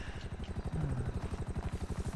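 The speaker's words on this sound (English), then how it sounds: "me and you are going to get in this helicopter and fly away" Helicopter in the video game GTA 5, a steady rapid rotor thumping with a low pulsing beat that runs throughout, fairly close and continuous.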